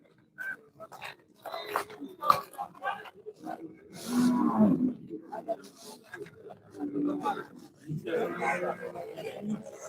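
Cattle low and moo at Manjeri cattle market in Kerala, several calls coming close and at mid-distance. The calls stand out over a bustling market background with people talking.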